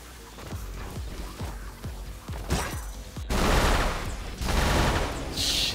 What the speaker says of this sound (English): this charge burst gun definitely doing the work